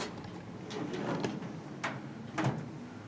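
Drawer in an audio equipment room holding batteries for extra microphones, sliding open or shut with a few soft scraping clicks and a couple of thumps, close and moderately quiet, no talking.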